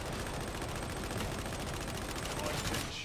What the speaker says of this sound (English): I fucking love the auto gun, man.